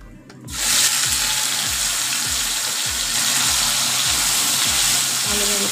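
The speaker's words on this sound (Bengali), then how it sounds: "ভালোভাবে ফ্রাই করে নিতে হবে মশলাটাকে" A spice paste of garlic, ginger and onion hits hot oil flavoured with cardamom and bay leaf and bursts into a loud, dense sizzle. The frying then holds steady and close for several seconds.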